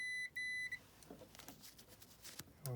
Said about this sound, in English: I'm just going to use the dummy beep.